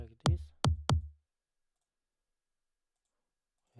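A big-room kick drum sample from an FL Studio track thumps three times in quick succession, punchy and deep, then silence follows.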